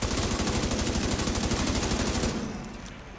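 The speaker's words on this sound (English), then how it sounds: "Was that gunfire?" Rapid sustained automatic gunfire from Tom Clancy's The Division 2, loud and continuous for a couple of seconds before cutting off and fading out.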